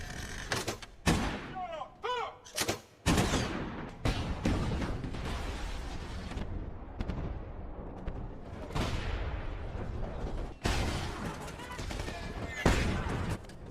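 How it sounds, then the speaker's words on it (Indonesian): Gunfire and artillery against Nazi troops in a war film: scattered shots and heavy bursts of fire over rumbling battlefield noise, loud in places and fading in others. "memerintahkan pasukannya untuk menggunakan artileri dan membalas serangan Nazi"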